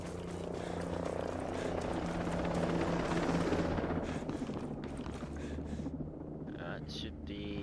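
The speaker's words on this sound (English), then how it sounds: "should be good for a while till this helicopter goes away." Helicopter in the video game Ghost Recon Breakpoint, a steady rotor drone holding loud and close for several seconds, then easing slightly, mixed with game ambience and scattered gunfire-like cracks.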